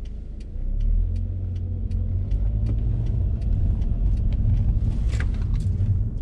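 A car pulls away at low speed on a city street as the pedal is pressed. A steady low engine rumble rises slightly and holds close by, with faint clicks over it and no talking.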